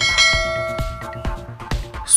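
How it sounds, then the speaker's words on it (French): A notification bell sound effect rings in a quick series of loud, resonant metallic strikes, each ringing with a sustained shimmer, about five hits over two seconds. "N'hésitez pas à cliquer sur la cloche de notification"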